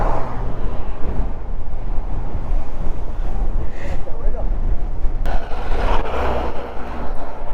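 Strong seaside wind at Dhanushkodi roars and buffets the microphone in a dense, constant rumble, with louder gusts throughout and a voice talking faintly underneath.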